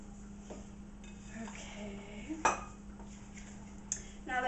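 Batter being mixed in a bowl, with soft scraping and occasional sharp clinks of utensil against dish, close and quiet against a low steady background hum.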